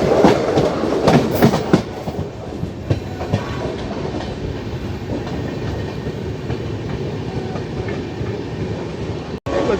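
A passenger train runs on rails between Lucknow and Prayagraj, heard from on board as a loud, continuous rumble and rattle with steady clickety-clack of wheels over track joints and no talking.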